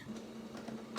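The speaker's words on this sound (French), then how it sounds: "c'est le bruit de l'imprimante" An office printer runs with a steady mechanical hum and a few faint clicks, quiet and close by, with no one talking.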